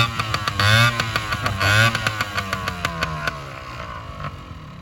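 A Yamaha Chappy 80cc moped engine runs steadily nearby, a buzzy two-stroke drone that swells into two brief revs early on before settling back to a rough, even idle.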